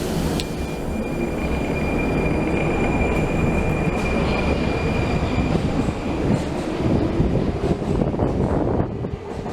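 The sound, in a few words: Naples Metro train riding and wheels squealing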